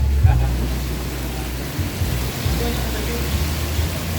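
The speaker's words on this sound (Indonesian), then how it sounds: "Alamak. Hujan lah" Rain falls in a steady hiss beside a busy bus on its route, with a low rumbling drone underneath throughout.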